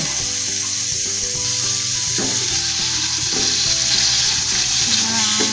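Pork liver sizzling steadily in a hot pan for pork igado, a continuous loud frying hiss with faint clinks of stirring and no voices.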